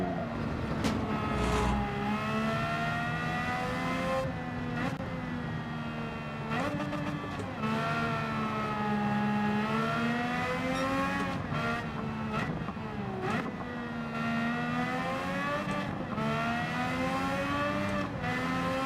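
A race car's engine on a warm-up lap around the Nürburgring Nordschleife in Gran Turismo 7, a loud, continuous whine that rises and falls with repeated upshifts and throttle lifts, with someone talking over it throughout.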